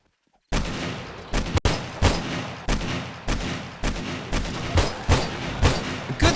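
Automatic turret fire in 7 Days to Die rattles out in a steady stream of close, punchy shots, each followed by a short echoing tail, with a sharp crack near the start.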